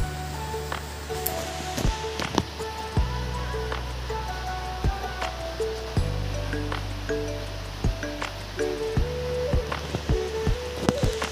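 Taro flower and pork fry in a pan for a Bodo dish, giving a steady crackling sizzle dotted with frequent sharp pops and spits that keep repeating throughout, with no talking.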